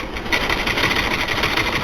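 A sewing machine runs steadily, stitching the folded waistband belt onto a pair of men's trousers, its motor humming in a continuous even buzz at close range, with no pauses and no voices.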